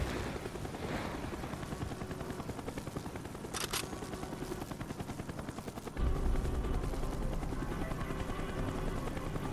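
A helicopter in the game Call of Duty Black Ops makes a continuous rotor roar that grows louder and heavier partway through, with a brief sharp burst near the start and no talking.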